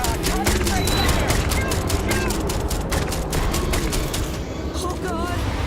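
Rapid gunfire crackles through a Starfield firefight, dense bursts layered over a steady loud background of combat noise, with voices shouting over the shooting.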